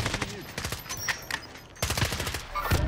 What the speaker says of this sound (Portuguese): Tem tiro da árvore aqui, ó.